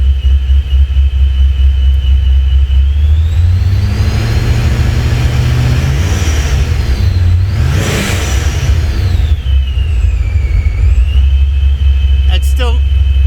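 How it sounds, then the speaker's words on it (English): A supercharged Holden VX engine idles after warming up, a steady loud low rumble with a whining tone that rises and falls once, and someone talks over it throughout. "You can see now the car has warmed up, the idle's come down."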